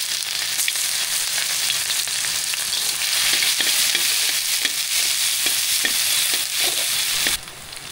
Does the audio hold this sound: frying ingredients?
yes